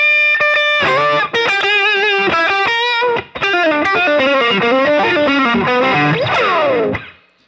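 Heavily distorted electric guitar playing an aggressive slow blues lick, with quick bends and string runs, loud and close, ending in a held note that fades out.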